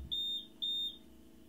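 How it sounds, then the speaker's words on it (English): Two short, shrill beeps from a buzzer on a UV light controller circuit board sound in quick succession, each about a quarter second long, clear against a quiet background. "The buzzer."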